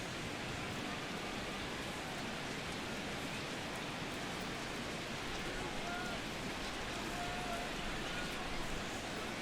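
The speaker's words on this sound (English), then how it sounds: "And this rain is intensifying now. This is as hard as it's come down all night." Heavy rain pours down during a Royals vs. Cubs baseball video game, a dense steady hiss that fills the whole stretch with no letup and sits under the crowd bed.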